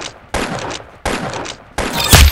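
Rapid bursts of gunfire from the Roblox game Arsenal, three loud volleys in quick succession with a heavier blast at the end.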